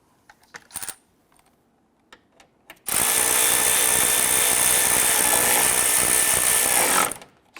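A power tool drives the lower grille bolts on a 2011-2021 Jeep Grand Cherokee, with a few faint taps and clicks followed by one loud, continuous whirring run of about four seconds that then cuts off.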